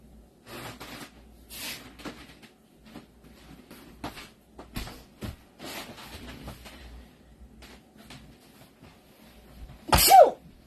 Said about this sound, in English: Don't think it was the end of my sneezes